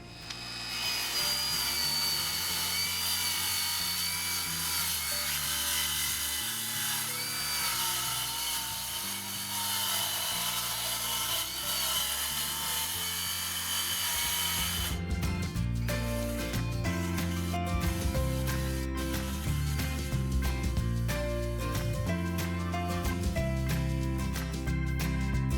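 A power tool grinds steadily into a teak boat deck, a loud continuous whining cut that turns harsher and more broken partway through, with dense rattling chatter replacing the smoother drone.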